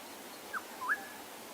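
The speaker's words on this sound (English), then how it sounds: "I can hear the black-headed oriole making that noise" A black-headed oriole calls during an early-morning drive in the South African bush: two brief, liquid whistled notes a fraction of a second apart, moderately faint over a quiet background hiss with no voices.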